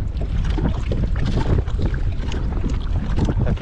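Strong sea wind buffets a kayak during a trolling fishing trip off Malaysia, a steady, loud rushing roar that fills all 3.6 seconds with no talking.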